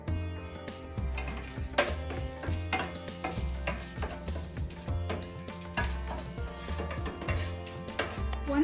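Bay leaf, cardamom and cinnamon sticks sizzle in butter and oil for butter chicken, a steady fry under repeated clinks and scrapes of a spoon stirring the pan.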